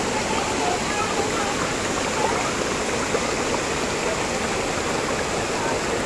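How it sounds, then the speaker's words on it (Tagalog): Steady roar of a waterfall and rushing stream at Ma Dai Stream in Hong Kong, a dense, even wash of falling water filling the whole span, close and loud with no break. "Ang dami pong waterfalls dito."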